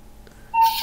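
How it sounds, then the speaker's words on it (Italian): A short cuckoo-call sound effect from a gaming channel intro: a soft hooting note followed by a brighter, sustained tone with a burst of noise, all within under a second. "uno entra dentro un canale della gente e si sente un cucù"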